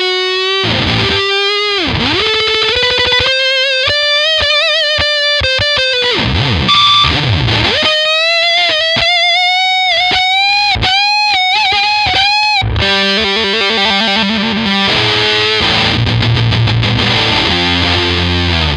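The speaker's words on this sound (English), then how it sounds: "a big, loud distortion kind of, or fuzz kind of tone for it" Electric guitar through a Big Muff fuzz pedal, loud sustained notes bending and sliding, then shifting into choppier chugging chords.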